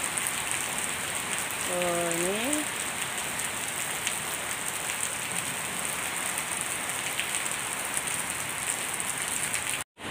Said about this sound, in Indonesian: Ini sekarang hujan deras.